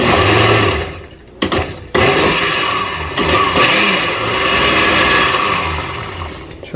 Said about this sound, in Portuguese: Esse meu liquidificador, ele é muito potente, então tem que ir bem devagar